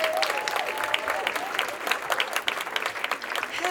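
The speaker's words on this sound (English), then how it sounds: "please put your hands together and really give a warm round of applause for your next comedian" A comedy club audience at the DC Improv applauds for a comedian taking the stage, a steady wash of many hands clapping at moderate volume with a few faint cheers and whistles threaded through.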